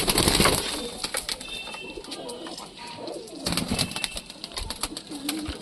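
Pigeons coo inside a pigeon house, soft repeated throaty calls from several birds mixed with faint chirps and rustling, moderately quiet and close.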